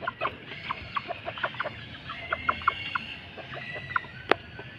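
Broiler chickens about six weeks old, roughly a kilo each, cluck in short repeated bursts, a steady scatter of soft calls close by with one sharper squawk near the end; no one speaks.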